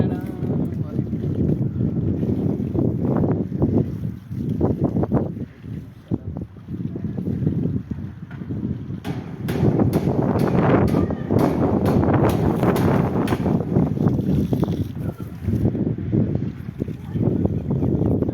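Steady wind roars and buffets the microphone throughout, with bursts of gusting noise, while people talk over it outdoors near water.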